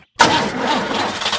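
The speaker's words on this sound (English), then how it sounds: "Try the engine." A cartoon car's engine cranks and catches, starting abruptly after a moment of silence and then running in a steady, close, moderately loud idle.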